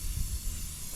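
Cooking oil sprayed from a can onto a rolled-up ball of paper towel used as a fire lighter, a steady close hiss lasting about a second with no voices.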